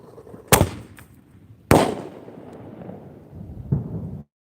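Firework mortar shells burst outdoors during an end-of-2019 New Year celebration: two loud, sharp booms with crackling decay tails, then a softer third blast, set against steady background rumble.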